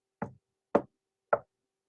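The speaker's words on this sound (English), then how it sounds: "Papa knocked on the door again." Three distinct knocks on a wooden door, evenly spaced about half a second apart, close and fairly loud, with silence between them.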